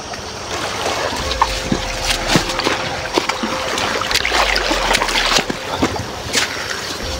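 A boat motor runs on water, giving a steady low engine drone beneath close, continuous splashing and sloshing, with occasional sharper water hits.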